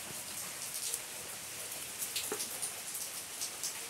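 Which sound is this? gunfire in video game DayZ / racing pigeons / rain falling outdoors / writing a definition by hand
rain falling outdoors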